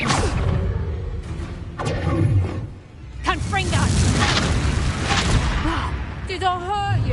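Incendio fire spell cast in Hogwarts Legacy, several whooshing bursts and booms amid busy combat effects, with voices speaking over the action.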